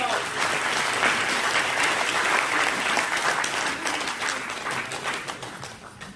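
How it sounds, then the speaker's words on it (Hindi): Audience applause at a motivational seminar, a full, dense round of clapping from many people that holds steady and then gradually tapers off near the end. "जोरदार तालियां सबके लिए"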